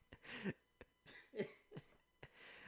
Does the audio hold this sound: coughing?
yes